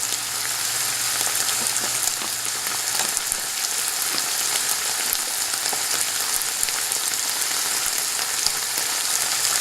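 Cumin fries in oil over medium heat as a taco filling is prepared, making a continuous crackling sizzle that holds close and even throughout, with no talking.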